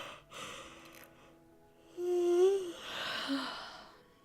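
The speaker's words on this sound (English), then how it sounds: "See, I'm already yawning way too much." A single drawn-out yawn from one person, close and soft, rises into a brief voiced groan and then trails off into a breathy exhale.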